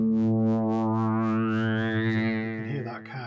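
Casio CZ-1 phase distortion synthesizer playing a sustained harmonically rich tone whose brightness sweeps upward like a filter sweep, loud and steady with a rhythmic pulsing shimmer, then breaking up near the end.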